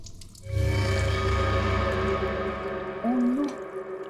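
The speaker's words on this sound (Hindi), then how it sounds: "बाथरूम में पानी भरने की आवाज आ रही है।" Water runs in a bathroom, most likely filling a tub or bucket, as a steady rushing and splashing that is loud and close, with a short tonal squeak near the end.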